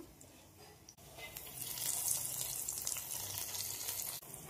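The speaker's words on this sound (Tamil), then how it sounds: "இப்போ இதை வந்து கேரட் கீரில் வந்து ஊற்றிடலாம்." Cashews and raisins fried in ghee are poured into carrot kheer, making a steady hissing sizzle that rises after a brief pause and continues for several seconds before cutting off.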